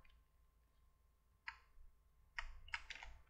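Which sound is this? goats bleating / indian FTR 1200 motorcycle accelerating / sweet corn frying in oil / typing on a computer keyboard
typing on a computer keyboard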